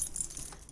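Keys jangle briefly as they are dropped into a spacious crocheted 3D rose purse, a quick close metallic rattle and clink.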